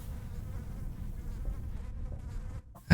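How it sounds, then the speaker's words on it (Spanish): Flies swarm around corpses in a PlayStation 2 video game, a steady close droning buzz that holds without a break for nearly three seconds before stopping with a brief click. "Aquí las mosquitas."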